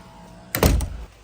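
A door swings open onto a back lawn during rain, giving one soft thunk followed by a brief burst of outdoor rain noise, near and fairly loud, with no talking.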